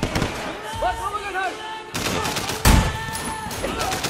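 Gunfire in the video game Sleeping Dogs bursts out in loud, close rapid shots, with sharp cracks and a heavy blast near the end, while a player talks over it.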